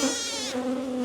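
Honeybees buzz at an open hive during a beekeeping inspection, a dense, steady drone of many wings close by, alone without talk.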